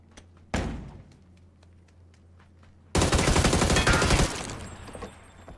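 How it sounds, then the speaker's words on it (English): Gunfire in the PUBG video game: a sharp nearby shot, scattered faint distant pops, then a loud sustained burst of rapid automatic fire that trails off. "I'm getting shot at from somewhere."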